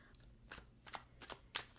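A deck of tarot cards is shuffled quietly by hand, giving soft riffling bursts in an uneven rhythm, close by and faint.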